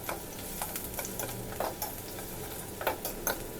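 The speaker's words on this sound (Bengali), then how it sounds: "এরপর ওই একই তেলে বাকি পেঁয়াজ কুচি দিয়ে দিলাম।" Chopped onions frying in hot oil, with a quiet sizzle under intermittent scraping and clinking of a spoon stirring the pan.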